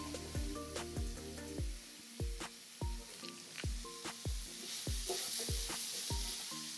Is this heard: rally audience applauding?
no